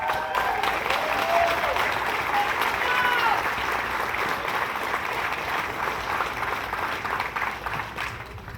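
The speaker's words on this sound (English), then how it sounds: "Let's get yourselves a round of applause," A crowd at a George Floyd rally in Matthews, North Carolina applauds steadily outdoors, the clapping sustained and fairly loud throughout, with a voice briefly audible early on.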